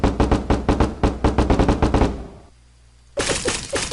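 Rapid bursts of gunfire in the video game Deadbolt, loud and close, rattle off in a steady rhythmic stream, pause briefly into near silence, then resume with another burst of shots.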